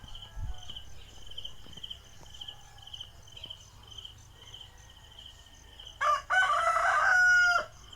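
A rooster crows once, loud and close, near the end in a Philippine village, over a steady background of crickets chirping and other faint fowl sounds.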